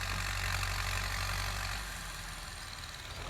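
A Ford 7740 farm tractor rated at 105 horsepower idles steadily nearby with a low, even engine drone. Partway through, the pitch and loudness drop slightly and the engine settles into a quieter idle. No one talks.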